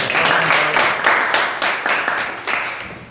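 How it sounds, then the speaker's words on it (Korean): Close, loud clapping from a lecture audience at a university startup course, with individual claps standing out in a brisk, slightly uneven rhythm that tapers off by the end. "큰 박수를 일단 한번 해주세요"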